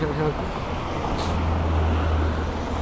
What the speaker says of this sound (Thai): และเสียงรถยนต์